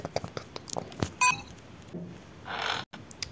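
A doorbell rings at a home, heard as short electronic beeps and tones among household clatter, with a brief burst of broadband noise near the end.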